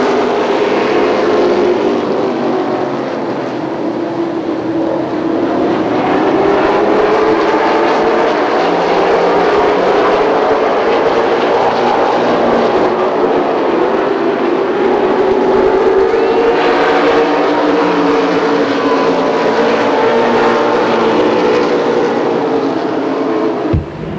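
Super late model race cars roar together off turn four at a race start, a dense, loud engine drone sustained throughout with rising and falling pitch as the field accelerates past.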